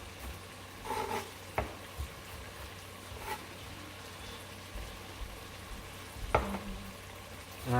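Green peppers and other vegetables sauté in a pan for red rice, giving a steady soft sizzle with occasional spoon scrapes and clinks close by.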